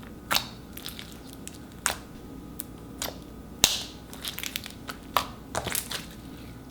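Crunchy slime from a slime shop is squeezed and pressed, giving a series of sharp crackling crunches and pops at irregular intervals, close and fairly quiet with no talking.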